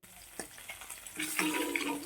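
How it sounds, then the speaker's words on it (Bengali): Eggs fry in hot oil in a pan for a malai egg curry and are turned until reddish-brown. A soft sizzle builds into a steady, brighter crackle, with a few light knocks as they are moved. "আমি ডিমগুলোকে একটু ভালো করে ভেজে নেব, উল্টে পাল্টে দেখো একটু লালচে লালচে করে ভেজে নিচ্ছি"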